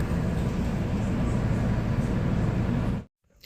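Loud, steady rumble of a passenger train travelling from Trenton to New York, continuous broadband roar for about three seconds before cutting off abruptly into near silence.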